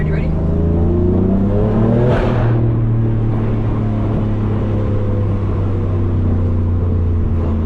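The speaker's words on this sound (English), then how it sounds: "Pretty good sound for an S55 if you ask me." A 600 hp BMW F80 M3 with the S55 engine accelerating, heard from inside the car as a loud, steady engine drone that climbs in pitch early on and then holds a strong, even roar throughout.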